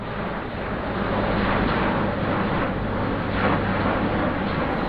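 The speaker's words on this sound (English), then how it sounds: "That sound is the roar of an A400 plane" An Airbus A400 military transport plane roars overhead during a military drill, producing a broad, steady rumbling drone that stays loud and swells slightly throughout, with no voices.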